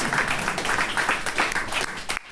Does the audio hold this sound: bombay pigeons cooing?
no